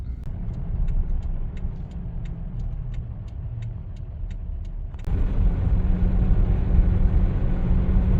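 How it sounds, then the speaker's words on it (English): Toyota Tacoma pickup truck rolling up to a tire shop, a steady low engine and road rumble that grows fuller partway through, with a faint repeating ticking above it. "We're pulling up to the tire shop"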